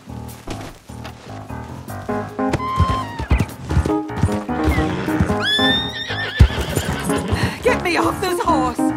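A horse in the video game Red Dead Redemption 2 neighs loudly amid busy clattering hoofbeats and bangs, with a few more whinnies rising over a dense, noisy action scene.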